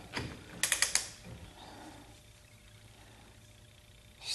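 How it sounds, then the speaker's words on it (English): A torque wrench on a 1976 Corvette restomod wheel with Torque Thrust II rims gives a quick run of four close metallic clicks, faint and near, then quiet workshop ambience. "But we'll put the torque wrench back on it, see if it moved it any at all."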